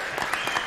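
Audience at a standup comedy competition breaks into applause, a brief, dense burst of clapping heard close and fairly loud.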